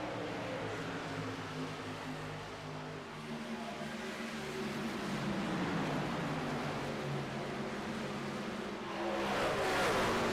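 Race cars in a racing video game at Charlotte Motor Speedway hold a constant loud engine drone. Pitch sweeps up and down as cars run side by side, and another car swells closer near the end.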